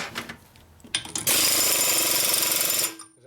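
A pneumatic impact wrench tightens a nut on an 88ci Evo Harley-style motor, a loud sustained rattling burst of under two seconds after a few short clicks and taps.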